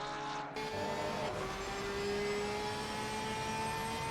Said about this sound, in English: And an incredible sound that this flat 6 makes to boot.